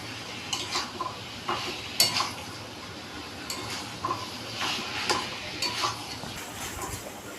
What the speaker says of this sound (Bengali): এবার আমি চিকেনটাকে ভালো করে কষিয়ে নেব।